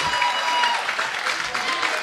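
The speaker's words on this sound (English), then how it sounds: "the crowd showing their approval" Applause and cheering from a wrestling crowd at a television championship match fill the space as a steady, moderately loud wash of clapping with no voices on top.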